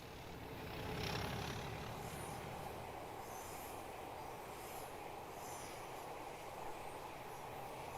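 Class 37 diesel locomotive under throttle in Train Sim Classic 2024, a steady low engine drone with rolling rail noise that swells briefly early on and then holds at an even, moderate level.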